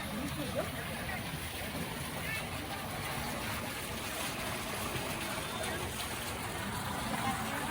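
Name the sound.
heavy rain falling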